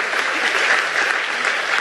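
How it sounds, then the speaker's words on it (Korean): Brief, even burst of audience applause at a church broadcast gathering, a dense wash of clapping from a crowd, steady and moderately loud with no voices standing out. "박수 한번 주세요"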